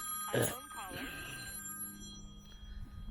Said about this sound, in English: phone's been ringing all day.